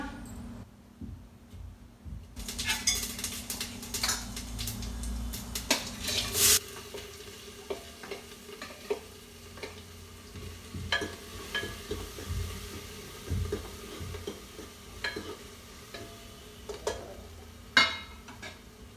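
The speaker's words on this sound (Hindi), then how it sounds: "बस सब्जी छोंक के बच्चों को रोटी देती हूँ।" Cumin seeds sizzle in hot oil in a pan as vegetables are tempered, a steady frying hiss with scattered stirring scrapes and light clinks, fairly close and moderately loud, with no talking.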